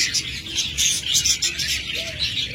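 A pair of albino lovebirds, close and loud, giving continuous shrill chirps and high twittering calls that overlap one another.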